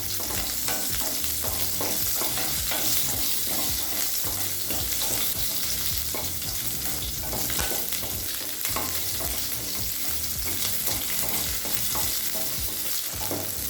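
Fifteen small shallots sauté in a pan for a green chilli chutney served with idli and dosa, a dense steady sizzle with repeated scraping stirs running throughout, close and fairly loud with no talk.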